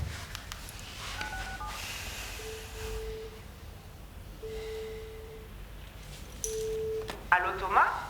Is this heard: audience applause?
no